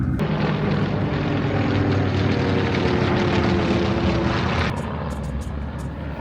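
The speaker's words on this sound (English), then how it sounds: "There's even helicopters here." Helicopters at a large Arizona car show produce a loud, steady mechanical drone with a low rumbling throb, dense and continuous, easing slightly near the end.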